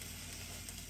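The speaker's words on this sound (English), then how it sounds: "oh, my milk is boiling over" Milk boiling over onto a hot stovetop while making herbal tea, giving a steady, even sizzling hiss that holds at one level for about a second, with no talk.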